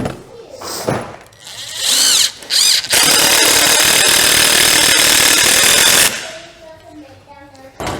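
Power drill driving 3-inch screws into wood for a chick brooder build, a few short whirs, then a long loud sustained drive of about three seconds close by, with a voice audible before and after.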